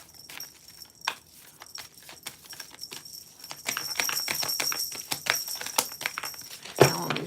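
Tarot cards shuffled by hand for a career reading, giving a run of quick papery riffles and taps that grow denser and louder midway, ending in a sharper knock.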